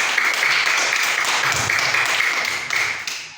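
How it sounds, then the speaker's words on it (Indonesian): A classroom of pupils claps hands together in a brisk, fairly loud patter, many small hands tapping close by for a few seconds before tapering off. "Tepuk tangan tumbuhannya dulu"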